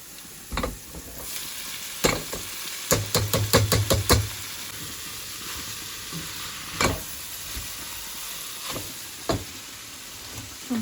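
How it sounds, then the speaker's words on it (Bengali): Frozen samosas frying in hot oil on a home stove, a steady low sizzle with sharp knocks and stirring clatter of a utensil against the pan, including a quick burst of taps, with no talking. "সমোসা ফ্রাই হয়ে গেছে"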